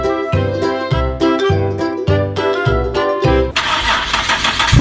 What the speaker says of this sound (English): Rev battle it is.